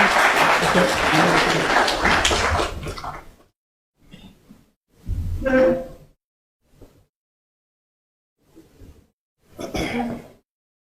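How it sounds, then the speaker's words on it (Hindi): Audience applause fills the opening three seconds of a legal seminar on preparing a civil suit, loud and dense, then breaks off into scattered short bursts of talk and shuffling with quiet gaps between them. "तालियां बजाइए।"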